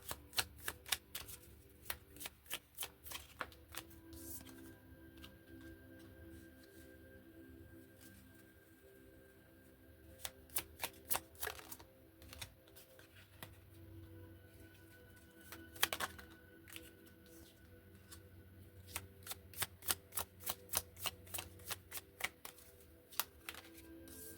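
Tarot cards are shuffled close by in quiet, crisp bursts of rapid riffling clicks, pausing between rounds, with faint soft handling noise in the gaps.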